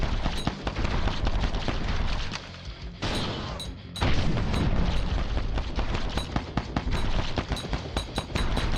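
A Katrina airdrop strike exploding in a video game: a dense, rapid barrage of sharp blasts and booms running almost continuously, loud and close, with a brief lull partway through.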